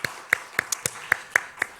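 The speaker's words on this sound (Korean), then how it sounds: "우리 다음 세대 자녀들을 우리 축복하는 마음으로 박수 한번 쳤으면 좋겠습니다" Hand claps ring out in a church as the congregation claps to bless the children, heard as a steady run of about eight sharp, evenly spaced claps that sound fairly close and sparse.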